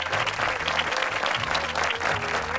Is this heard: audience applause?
yes